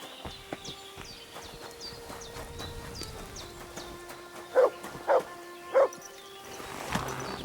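A dog barks a few times in the medieval open-world game Kingdom Come: Deliverance II, three short clear barks standing out over a soft ambient game soundscape with faint hoofbeat-like clatter.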